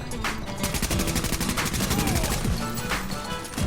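Rapid automatic gunfire from Tom Clancy's The Division, loud and continuous, with fast bursts of shots ringing out over a busy game backdrop.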